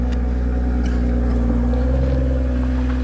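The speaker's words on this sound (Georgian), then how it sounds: "ცივი და ქოქვა. აი ხმა აქ." A 2021 BMW X3 M40 engine idles on a cold morning start, a steady, close, low rumbling drone with no voices over it.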